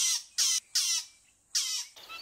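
A fork-tailed drongo calls from Southern Africa in four sharp, harsh bursts with short gaps between them, then a fainter trailing note, each burst bright and close with nothing else around.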